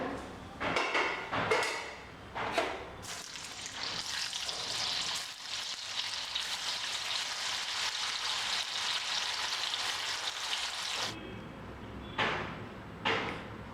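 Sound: bitter gourd slices frying in oil for chips

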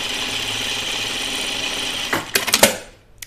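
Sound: sewing machine sewing rows of gathering stitches

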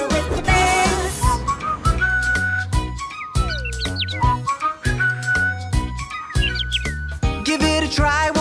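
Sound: whistling imitating birds

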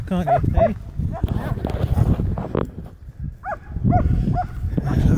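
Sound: dogs barking outdoors

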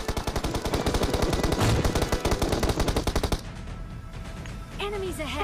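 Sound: SKS rifle gunfire in video game PUBG Mobile

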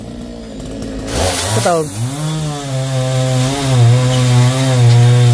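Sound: chainsaw cutting down coconut trees

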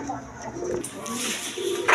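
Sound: pigeons cooing

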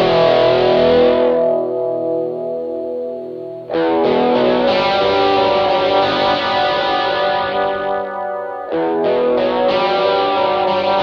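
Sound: electric guitar with active pickups through Rockman headphone amp

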